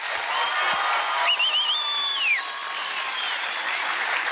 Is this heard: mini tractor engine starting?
no